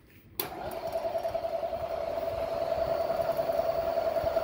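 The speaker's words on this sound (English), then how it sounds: "The only thing that's making a little noise is the draw bar that's in there." A Bredgeport milling machine with a ProtoTrak MX2 control runs its spindle quietly, with a light rattle from the draw bar. It makes a steady, close mechanical whir with a thin tonal whine that starts abruptly and holds constant.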